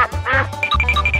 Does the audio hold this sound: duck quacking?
yes